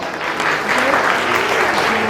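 Sustained audience applause at a Bharat Vikas Parishad national group-song competition in Deesa, loud and steady throughout with no clear break.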